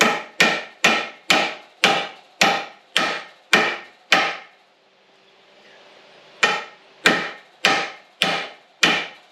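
A hammer taps a U-joint under a Chevy Suburban in sharp, evenly spaced metallic knocks, about ten in a row, then a short quiet gap, then another run of five.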